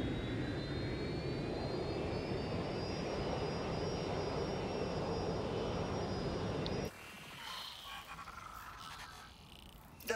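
A jet airplane flies in Watch Dogs Legion, a steady loud engine roar with a rising whine that cuts abruptly to quieter game ambience near the end, with no speech.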